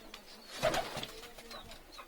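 A single soft, low pigeon coo nearby, a brief throaty call rising and fading over quiet background noise.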